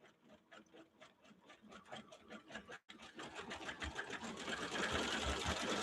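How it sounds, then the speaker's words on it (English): An embroidery machine stitches a Mylar quilt design for a wedding quilt, with a fast rhythmic needle chatter that starts light and grows steadily denser and louder, broken by one brief pause. "So it's stitching out now."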